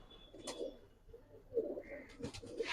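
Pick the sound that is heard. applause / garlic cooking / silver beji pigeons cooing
silver beji pigeons cooing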